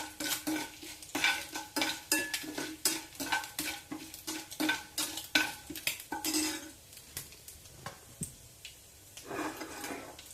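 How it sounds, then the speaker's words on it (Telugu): Spice tempering with curry leaves frying in about a tablespoon of oil for an egg and garlic chili dish, heard as steady rhythmic scraping of a spoon against the pan over a soft sizzle, repeated strokes roughly every half second, close and clear with no talk. "పోపు చూడండి చక్కగా వేగిపోయింది"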